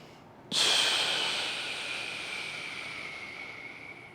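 A deep breath drawn in during a lateral lunge hip stretch, a sudden close hissing inhale that slowly tapers over several seconds, alone without talk.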